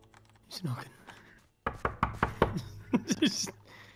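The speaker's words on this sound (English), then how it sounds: "He's knocking." Knocking on a wooden door in Minecraft during a Skyblock session, a quick run of about six sharp, close knocks in an uneven rhythm after a brief pause, with players talking over the game sounds before it.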